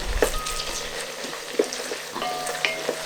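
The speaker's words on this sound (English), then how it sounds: "I can see the sides of some of the onions are beginning to caramelize" Onions fry in a pan for Ghanaian jollof, starting to caramelize, giving a steady close sizzle with occasional crackles and light stirring scrapes.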